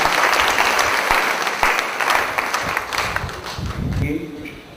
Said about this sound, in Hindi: एक बार जोरदार तालियां बजाते हैं।